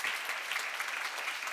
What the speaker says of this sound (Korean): 박수로 막 돌리세요